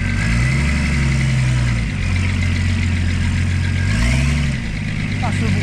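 Close by, a Ford Sierra six-cylinder engine runs with a deep, steady drone that dips briefly and swells again as it revs. Its low harmonic rumble stays continuous throughout.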